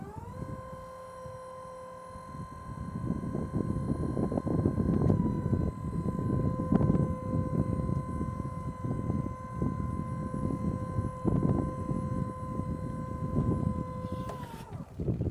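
An electric forklift, a Lift Hero CPD 38 rated at 8,500 lb, raises its mast on a slope with a steady whining electric motor hum and hydraulic drone that holds for about fourteen seconds, then cuts off abruptly.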